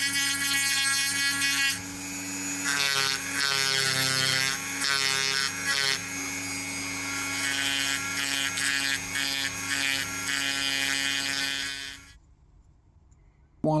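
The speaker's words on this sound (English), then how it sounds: "We need to get some more Dremel tools out and tidy this all up a bit." Close whine of a Dremel rotary tool tidying up a cutaway Abloy Classic cam lock, a sustained high-pitched grinding hum with shifting pitch as it bites into the metal, running steadily before cutting off abruptly.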